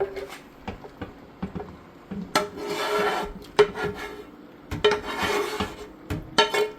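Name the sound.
scraping rasta pasta sauce from a pan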